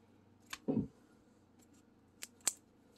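A few quiet, sharp clicks and a soft rustle as small green scissors are handled, with short taps spaced apart in near silence.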